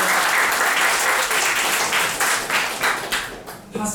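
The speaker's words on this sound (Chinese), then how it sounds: "掌声鼓励" An audience at a lecture on traditional Amis musical instruments applauds to welcome a musician, a dense burst of clapping that gradually thins out over a few seconds.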